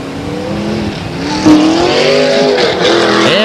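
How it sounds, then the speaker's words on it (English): Grand Am race cars racing at Stockton 99 Speedway, several engines roaring loud and close with rising, overlapping revs and harmonic whine, a sharp surge midway as cars pass. "Here comes the racers, and they're going to go green."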